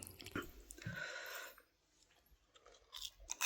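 People eating food while lying under a blanket, with close, crunchy, moist chewing in short bursts separated by quiet pauses.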